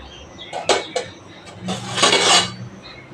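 A lid comes off a cooking pot of pui chanchra, a Bengali dish of Malabar spinach with fish head, giving two quick metallic clinks followed by a longer scraping rattle close by, with no talking.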